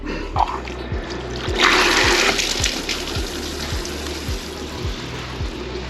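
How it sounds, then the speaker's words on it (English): Water rushes and gushes steadily from an opened sprinkler valve, a broad hissing flow accompanied by a low rhythmic mechanical thumping. "I'm hearing water running like crazy"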